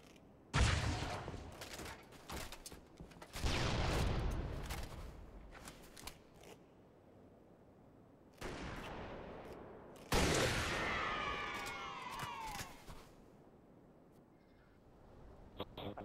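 Video game gunfire, with a sniper rifle in play, comes in several loud, dense bursts separated by quieter gaps, some rattling on for a couple of seconds.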